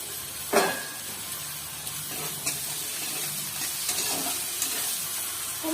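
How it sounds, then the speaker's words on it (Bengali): Chopped tomatoes and green chilies hit a pan of frying onions with a loud initial sizzle, then a steady hissing fry with occasional stirring scrapes, close and continuous, no voices, while a spicy lote fish curry is being cooked. "এবার আমি টমেটো কুচিগুলো দিয়ে দিলাম লঙ্কা কুচিগুলো দিয়ে দিলাম"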